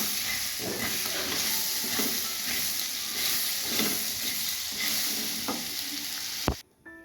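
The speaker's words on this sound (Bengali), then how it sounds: "এবার পটলগুলো ভেজে নিচ্ছে" Pieces of pointed gourd fry in hot oil in a pan for a dudh shukto, giving a loud, steady sizzle and hiss with occasional stirring scrapes, ending in a sharp clunk.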